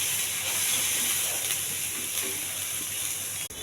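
Cumin seeds, mustard seeds and chopped onions fry in a pan with a steady, close hissing sizzle that holds evenly throughout, with no talking.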